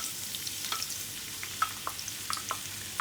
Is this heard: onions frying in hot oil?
yes